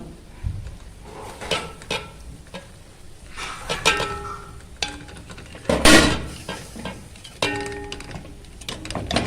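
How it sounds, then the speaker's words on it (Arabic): Milk is added bit by bit and whisked into a béchamel mixture for lasagna in a metal pot, with irregular scraping strokes, clinks and taps of the whisk against the sides, close and fairly loud. "يستحسن نجيب المضرب"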